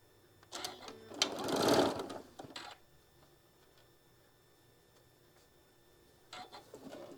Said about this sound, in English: we're going to stitch both of these on